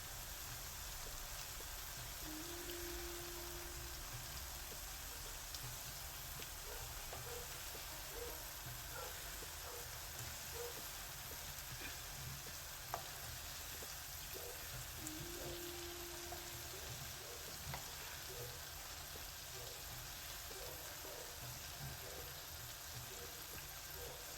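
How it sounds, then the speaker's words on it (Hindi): Churros deep-frying in hot oil over a high flame make a constant, fine crackling sizzle that holds even throughout, with no talk. "इस तरह से हाई फ्लेम पर रख के इसको हमने फ्राई करना है।"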